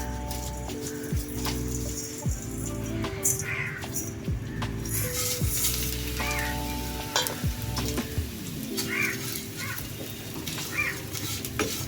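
Lacha vermicelli frying in hot ghee on low flame, a continuous sizzle beneath loud humming tones and intermittent clanks of utensils, with a crow cawing faintly in the background.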